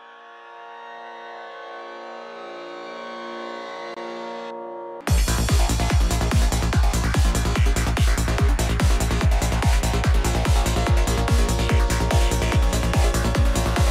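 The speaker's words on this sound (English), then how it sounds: "They're kind of like slow melodies, we could say, with a very soft preset. So they have like a long attack" Soft psytrance synth pad with a long attack programmed in Ableton, a slow sustained chord swelling gradually for five seconds, then cut off as a loud driving beat with a pounding kick and full mix takes over.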